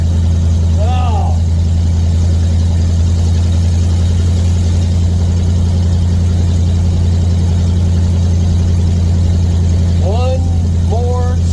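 A car engine runs loud and constant while the car is driven, a steady droning rumble throughout, with a few brief chirping squeaks near the start and end.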